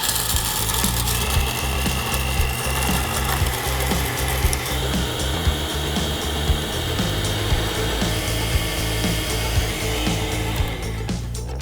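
Borosilicate glass is ground into powder with a harsh, continuous grinding whir and rapid rattling scrapes, loud and close, with the pitch and texture shifting partway through.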